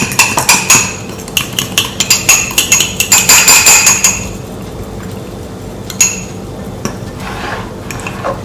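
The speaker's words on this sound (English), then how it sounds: "now we have to mix this so that we get a little type of mixture, and this would be our icing" A spoon beats powdered sugar icing in a bowl for cinnamon rolls, with quick rhythmic clinks of metal on the bowl for about four seconds. A few isolated taps follow, then quiet.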